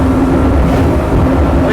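Mercury outboard engines push a 2021 Invincible 33-foot open fisherman at close to 70 mph, near the rev limiter, giving a loud, steady, unbroken roar with wind and hull noise throughout.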